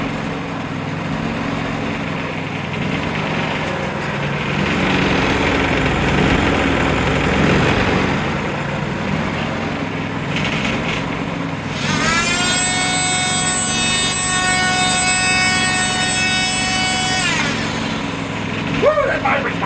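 A Predator 3500 portable generator, salvaged from the trash and repaired, runs loud and close with a steady engine drone and a rising whine partway through, while a person talks over it now and then.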